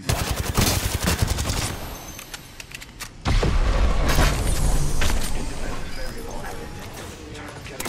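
Rapid automatic gunfire rattles in Apex Legends, loud bursts up front, then a brief lull before another heavy sustained stretch of shooting and booming impacts.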